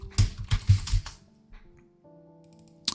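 Computer keyboard typing a folder name, a short quick burst of keystrokes at close range followed by a faint click and a low hum.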